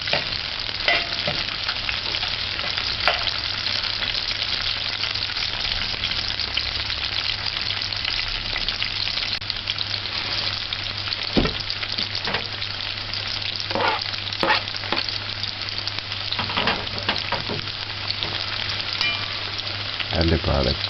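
Corned beef shell macaroni frying in a pan while being stirred, a continuous close sizzle broken by repeated scrapes and knocks of the utensil over a long stretch.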